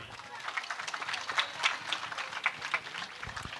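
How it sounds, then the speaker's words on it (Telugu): Light, scattered clapping from a church congregation at the consecration of a new Our Lady of Lourdes church, fairly faint and uneven, with someone speaking over it. "అందరు కూడా చప్పట్లు కొట్టండి."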